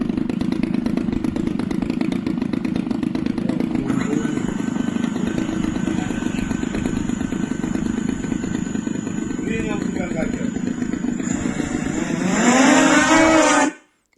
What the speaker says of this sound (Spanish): El dron Abeja es un híbrido de avión y cuadricóptero